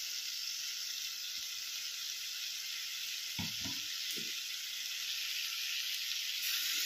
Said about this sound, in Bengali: আলুর সঙ্গে মশলাটা ভালো করে কষাতে হবে।